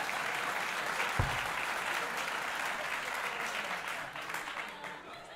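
Live audience at a comedy chat show recording breaks into applause, a dense, even wash of clapping that carries on throughout and tapers slightly at the end, with one low thump partway through.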